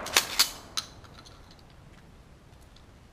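Three sharp, distant-sounding reports in quick succession from 12 gauge shotgun slugs fired at a microwave in a backyard, followed by a quiet outdoor ambience.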